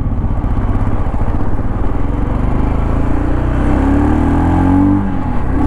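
A Royal Enfield Scram 440 motorcycle accelerates in first gear, its close, loud engine rumbling steadily, with the pitch climbing toward the end.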